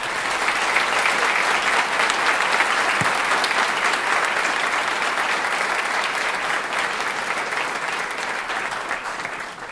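Sustained applause from a seated audience at a book launch in Asunción, steady dense clapping filling the room for the full stretch and easing slightly toward the end.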